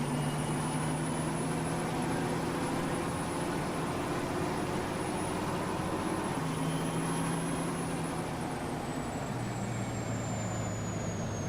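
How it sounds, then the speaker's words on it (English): An airplane coming in over the Delta Junction, Alaska farm map in Farming Simulator 19, a steady low engine drone with a sustained whine, constant and moderately loud throughout with no talking. "That's either a big bird or a plane coming in."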